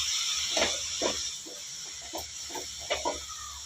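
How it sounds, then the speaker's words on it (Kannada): Chopped palak spinach frying in oily masala for a masala dal, a steady close sizzling hiss with soft pulses as the greens are stirred in the pan. "ಈ ಮಸಾಲೆ ಜೊತೆಗೆ ಈ ಸೊಪ್ಪನ್ನ ಫ್ರೈ ಮಾಡ್ಕೊಳ್ಳೋಣ ಚೆನ್ನಾಗೆ"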